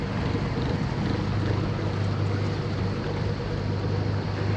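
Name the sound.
sailboat engine and watermaker running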